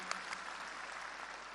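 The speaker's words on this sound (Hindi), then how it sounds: "तो एक बार जोरदार तालियां बजा के उनका हम सम्मान करते हैं" Steady applause from an audience at a Punjab gathering honoring newly elected district and block panchayat members: dense, even clapping that holds at a fairly soft, distant level for the whole moment.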